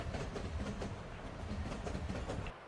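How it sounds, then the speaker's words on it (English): Union Pacific steam locomotive in a Roblox rail game, a steady soft chugging rhythm with rolling rail car clatter throughout, fairly even in loudness and cutting off near the end. "There must be a soft chugging sound and rail car sounds."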